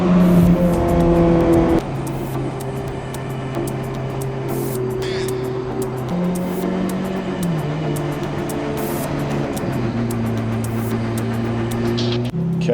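A roughly 15-year-old Ferrari engine runs at a steady idle with slight pitch shifts, loud and close after an opening burst of revs; no talking.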